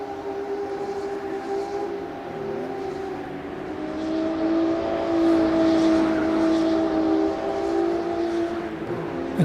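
BMW M2 CS race car in a racing sim, thrown hard through a chicane at Suzuka West, its engine note wailing steadily and rising and falling in pitch through the corner, with no talk.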